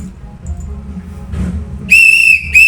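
A shrill whistle is blown in two sharp blasts, close and loud. The first blast is longer and the second is short. Quiet crowd murmur comes first.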